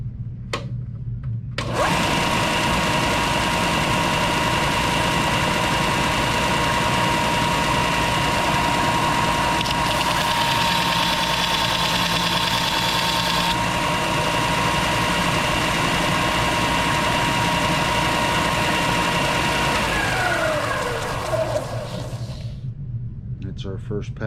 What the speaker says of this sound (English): I'm going to turn on the machine.